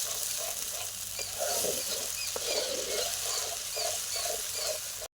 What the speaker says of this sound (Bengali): দিয়ে দিচ্ছে জল, দিয়ে আবার নেড়ে চেড়ে নিচ্ছে।